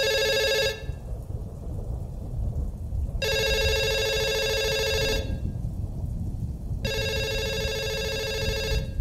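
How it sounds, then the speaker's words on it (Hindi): A telephone rings in three long bursts of repeated bell tones, each lasting about two seconds with pauses between, going unanswered over a steady low rumble of rain and distant thunder in a horror film. "कोई फोन नहीं उठा रहा है"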